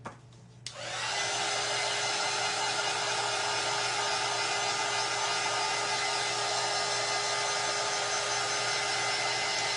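A hair dryer clicks on and runs as a steady, loud, close whine and rush of air for several seconds without pause.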